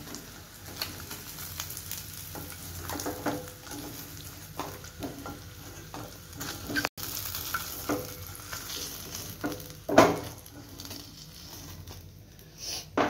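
Paneer frying in hot oil in a pan gives a soft steady sizzle with scattered pops, light stirring scrapes and a sharper clack near the end, fairly quiet and without talk.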